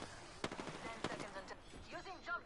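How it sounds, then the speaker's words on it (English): Gunfire in the video game Apex Legends, a few sharp shots followed by rapid bursts of automatic fire, moderately faint against background noise. "I am taking fire, friends."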